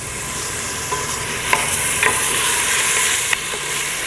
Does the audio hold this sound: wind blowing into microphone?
no